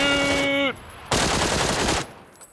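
Automatic gunfire in the video game PUBG, a loud, sustained burst of rapid shots lasting about a second, with a short tonal game sound just before it.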